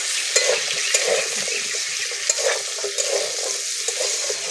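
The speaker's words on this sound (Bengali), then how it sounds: "ডাঁটা আলুটা আবার একটু ভালো করে ভেজে নেব।" Moringa drumsticks and potato pieces fry in hot oil for aloo posto while a spatula stirs them, giving a steady close sizzle with repeated scraping strokes against the pan.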